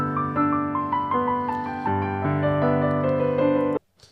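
A boy plays a song on the piano, a quick sequence of steady chord-backed notes ringing out clearly and close for a few seconds before stopping abruptly, followed by a brief soft rustle.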